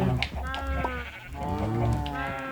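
Sheep in a video game bleat repeatedly in wavering, nasal cries, several calls overlapping at close range with a low background hum and no talk.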